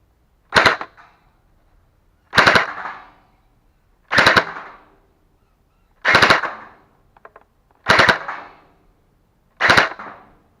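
A Scar V2 gel blaster with an upgraded 1.3 spring, aluminum barrel and DK J8 hop-up fires six sharp, loud, close shots, evenly spaced about two seconds apart, with quiet between them.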